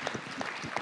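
Audience applause from a large crowd at a public talk in Rennes, a steady dense wash of clapping filling the short moment without pause.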